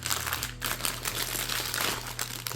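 Aluminum foil packaging wrapped around RGB LED strips crinkles and rustles continuously close up, a busy, dense handling sound with no voices.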